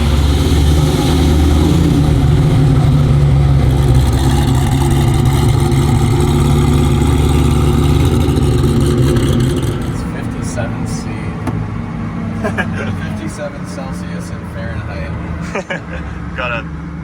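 Hennessey Venom F5 supercar engine, a loud low rumbling drone under way that settles into a lighter idle-like hum partway through, with faint clicks and knocks on top.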